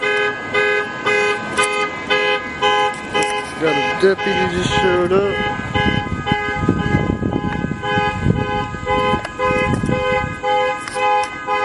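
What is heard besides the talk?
car alarm going off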